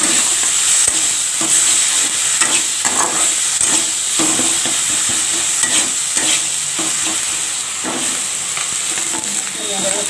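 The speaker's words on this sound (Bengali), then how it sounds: "এই মাছটাও ভাজা হবে" Tangra fish frying in mustard oil in a pan, a loud, steady sizzle and hiss throughout with stirring scrapes at irregular intervals and no talking.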